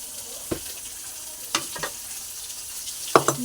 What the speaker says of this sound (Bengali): এবারে পেঁয়াজ দিয়ে পেঁয়াজটা ভালো করে ভেজে